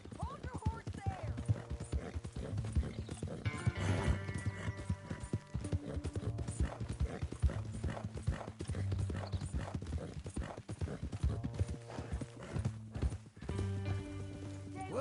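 Horse hooves clip-clop steadily in the Red Dead Redemption 2 western game, with a horse whinny and snorts over the rhythm, while in-game voices talk over the hoofbeats.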